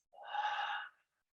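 One deep breath drawn in and released through the mouth, a soft airy rush that swells and then fades over about a second, quiet and close, with no voices.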